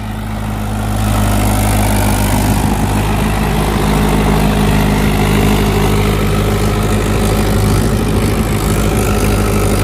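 A Mahindra XP Plus tractor engine runs steadily at about 1600 rpm during a mileage test, a loud, even diesel drone with a deep low throb that holds level after a brief rise at the start.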